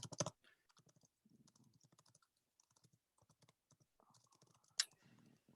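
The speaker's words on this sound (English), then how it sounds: "I'm typing up Q3 right now." Typing on a computer keyboard: quick, irregular clusters of soft key taps with a couple of sharper clacks, close and fairly quiet, with no talk.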